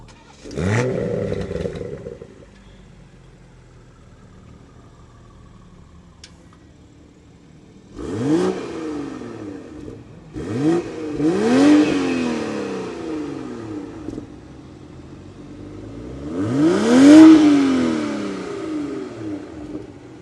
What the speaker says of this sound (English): standard active exhaust here on the GR Supra, and it sounds absolutely incredible